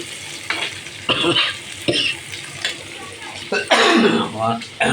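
Fish fries in hot oil with garlic and onion, a close, crackling sizzle that rises and falls in bursts while a person talks over it and coughs or clears their throat.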